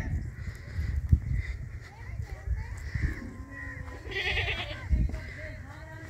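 A goat in a village bleats once, a short wavering cry over a busy outdoor background, while people talk nearby.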